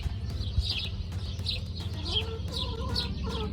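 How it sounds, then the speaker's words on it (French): Birds chirp and call outdoors over a steady low rumble of a neighbour's ride-on lawn mower, with short repeated clucking calls and bright twittering scattered throughout. "Avec le bruit des oiseaux."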